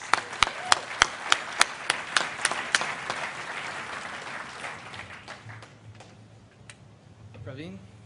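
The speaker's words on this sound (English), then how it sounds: "Give them a round of applause." Applause for the winners at a startup EXPO event, beginning with a few sharp, distinct nearby claps over a thinner crowd clapping that fades out, then a voice starts speaking.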